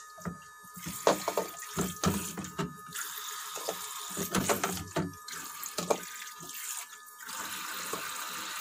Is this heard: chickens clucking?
no